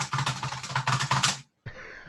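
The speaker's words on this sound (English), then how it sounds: "I love my Logitech keyboards, but why do they have to be so bloody loud?" Typing on a loud Logitech computer keyboard, a quick close run of sharp clacking keystrokes for about a second and a half, then a brief silence before a faint hiss.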